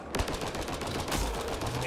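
Gunfire in the video game Mass Effect: Andromeda, a continuous burst of rapid shots and impacts lasting about two seconds, loud and dense, with faint game voice chatter underneath.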